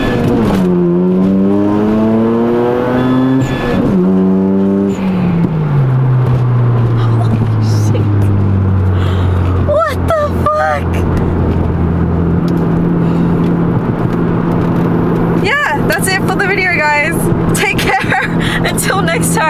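A Mazda FD RX7 with a rotary engine revs hard and close, its pitch sweeping up and down in repeated climbs before settling, with sharp throttle blips near the end and faint voices at moments.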